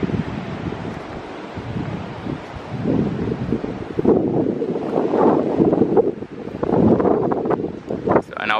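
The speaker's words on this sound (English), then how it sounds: "It's the beach." Strong wind buffets an outdoor beach with waves washing in, a steady roar of gusts and surf rumbling nearby with no talk.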